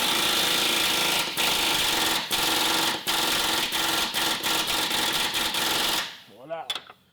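Impact gun hammering a bolt tight on a 2002-06 Toyota Camry lower control arm, a loud continuous rattling buzz broken by brief pauses, ending in a short quieter clatter.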